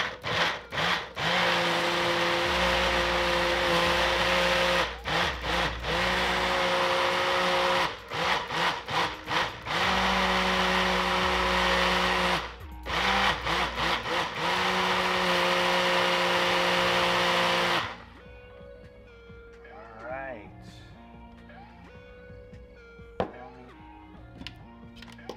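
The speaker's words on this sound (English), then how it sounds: "so we got the blender here. We're about to blend this mug now." A blender whirs loud and close while making a pineapple smoothie, its harsh motor buzz dipping and surging in pitch several times before cutting off, leaving quieter handling noises and a faint background.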